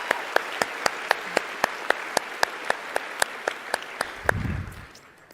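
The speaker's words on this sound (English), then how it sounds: "And another massive round of applause." An audience claps in unison for a group of women, sharp evenly spaced beats in a steady rhythm of roughly four per second that carry on for several seconds before dying away into a brief low rumble and quiet.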